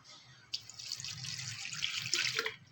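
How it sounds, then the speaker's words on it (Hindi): A glass of water poured into a cooking pot in a home kitchen, a steady close splashing stream that builds and then trails off into a few drips. "तो इसमें अब हम डालेंगे 1 गिलास पानी।"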